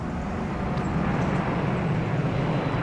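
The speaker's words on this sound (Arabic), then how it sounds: "طيارة حربية. أوه اثنين." Two military jet aircraft roar overhead as a broad, steady, distant rumble, continuous throughout, with no talk over it.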